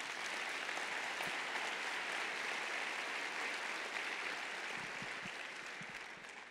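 Steady, dense applause from a church congregation fills the space for several seconds, loud and continuous before tapering slightly at the end, with no voices over it.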